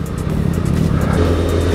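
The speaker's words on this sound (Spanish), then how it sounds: "Motero en el semáforo." A motorcycle engine idles at a traffic light, a low, steady rumble close by with slight rises in pitch, no talking over it.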